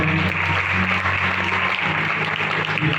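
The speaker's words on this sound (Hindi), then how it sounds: "सब साउंड वाले के लिए भी जोरदार तालियां" Sustained applause from a church gathering, a continuous wash of clapping over a low amplified hum.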